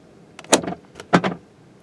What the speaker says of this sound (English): you can actually open the door manually by sticking your finger behind here and pulling